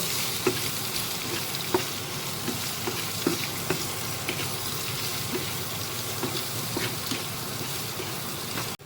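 Onions frying with turmeric powder crackle in a dense, continuous sizzle while a spoon stirs them, giving regular light scrapes and taps throughout. No talking.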